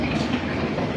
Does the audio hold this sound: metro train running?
yes